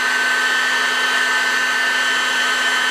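Heat gun warming a bearing on a Peugeot 103 moped engine, a loud steady close blowing whine with a constant tone and no variation, no voices.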